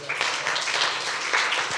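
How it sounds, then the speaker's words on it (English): A short burst of applause from a small conference audience at the end of a day-long session, steady clapping throughout with no one speaking. "so round of applause for yourselves."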